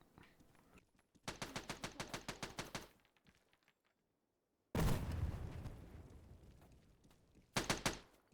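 Military video game combat: a rhythmic burst of automatic gunfire, a pause, then a heavy frag grenade blast with a long fading rumble, followed by another short burst of shots.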